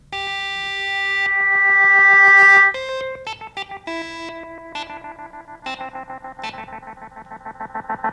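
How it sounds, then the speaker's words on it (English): Moogerfooger echo with its feedback worked by an expression pedal: a long held tone gives way to bright, buzzy notes that repeat as rhythmic, decaying echoes, building into a dense stream of repeats. "Now we're controlling the feedback, the number of echoes with the control pedal."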